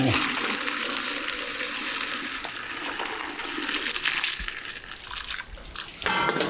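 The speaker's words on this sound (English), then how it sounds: "so let's drain the pasta. Just pour." Pasta poured from a pot into a colander to drain, a steady rushing splash of water running for several seconds, close and loud, with a final gush near the end.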